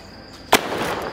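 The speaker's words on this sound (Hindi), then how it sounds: "ये नीचे ही फट गया इसका शॉट" A Penta sky shot firecracker bursts low near the ground during Choti Diwali celebrations, one sharp loud crack followed by a fizzing, crackling tail.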